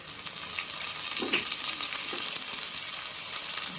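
Mint and other greens dropped into onions frying in oil for a Tamil Nadu style mutton biryani bring a steady close sizzle with a few soft rustles and stirring scrapes.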